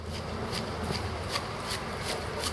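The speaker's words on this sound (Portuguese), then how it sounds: "com a tesoura, você vai podando pela lateral" Pruning shears trimming the sides of a boxwood shrub, a series of soft, crisp snipping and rustling sounds repeating at a steady pace, close and fairly quiet with no talking.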